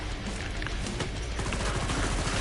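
Dense, sustained gunfire from the video game Killing Floor 2, a continuous loud clatter of rapid shots and impacts filling the whole stretch with no talk over it.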